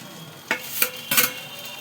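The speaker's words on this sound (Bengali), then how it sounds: "ডিমটা দিয়ে নাড়িয়ে চাড়িয়ে নিয়ে" Beaten eggs being stirred into prawn chow in a frying pan: a few quick utensil scrapes and clinks over a light sizzle, close and brief.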